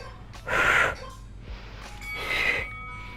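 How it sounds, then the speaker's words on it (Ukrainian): Two forceful breaths during a fast home cardio workout, a sharp exhale pushed out through the mouth followed by another breathy gust, close and loud with no talk. "потужний видих через рот"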